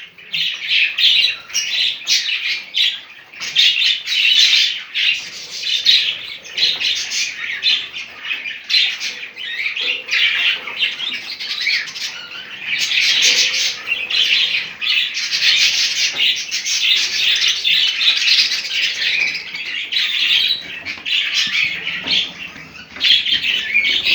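Budgerigars in a home breeding cage chirp and squawk constantly, a dense, loud, close chatter of overlapping calls with no gaps and no one speaking.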